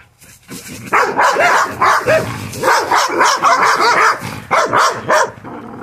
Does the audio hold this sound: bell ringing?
no